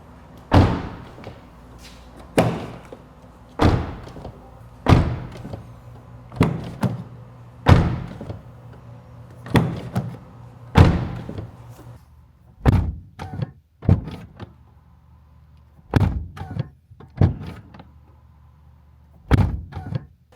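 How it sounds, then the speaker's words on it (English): A car door is opened and shut repeatedly, with loud slams and thuds at uneven intervals, some closes coming in quick pairs. "Let's try to open and close the door a bit."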